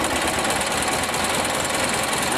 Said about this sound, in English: I'm going to hit the starter and see if this thing will fire up